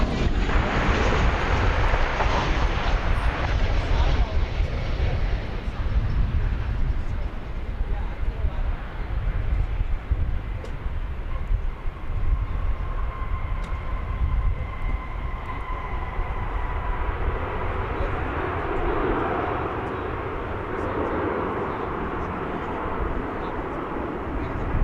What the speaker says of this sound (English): That was Flight 868 American Airlines coming in from LaGuardia Airport on a 737-800.